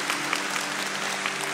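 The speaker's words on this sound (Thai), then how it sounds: "ปรบมือให้กับท่านอาจารย์ด้วยค่ะ" Audience applause at a birthday celebration for a teacher, a steady dense wash of many hands clapping at moderate distance with a faint hum underneath.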